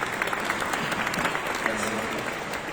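An audience at a presentation on rehabilitating the National Museum of Carthage applauds as presenters come on stage, a close, crackling spread of clapping with scattered sharp hand strikes and murmured crowd voices underneath.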